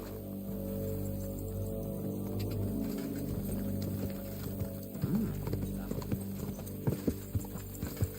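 Horse hooves clip-clop in the GTA video game in an irregular, moderately close rhythm over a low steady hum, louder toward the end.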